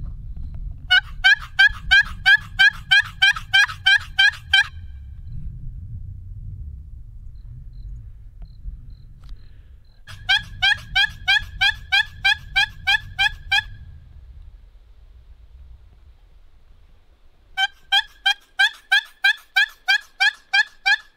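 In scouting woods before the wild turkey season opener, three separate bursts of rapid, rattling gobbles ring out clearly over a faint low rumble.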